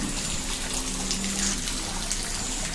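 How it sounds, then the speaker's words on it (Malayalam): Steady running water pours without pause, a continuous gushing wash like a tub being filled, fairly close and even in level. "അതിലേക്ക് വെള്ളം നിറച്ച് കൊടുക്കുകയാണ്"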